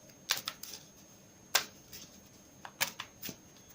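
A deck of oracle cards is shuffled in a few quick, crisp riffling bursts with short pauses between them, close and fairly quiet in an otherwise still room.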